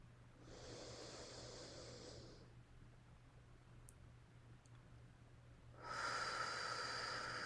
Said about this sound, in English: One more deep breath together.